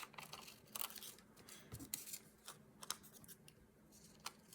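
Scissors snip through a paper doily in quick, close, crisp cuts with soft paper rustles between them, quiet and without talk.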